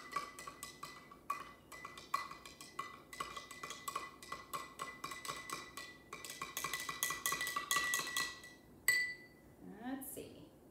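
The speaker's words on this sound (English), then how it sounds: "so I'm just stirring it till I can't see them anymore" A metal spoon stirs salt into a glass of water, clinking steadily and rapidly against the glass in a continuous rhythm, up close, ending with a couple of louder taps and a brief swish.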